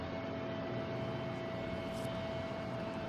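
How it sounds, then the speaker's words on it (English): A JetBlue airliner at Boston Logan Airport roars with a steady, loud engine drone and a constant high whine, alone with no speech. "is this JetBlue making the racket down here?"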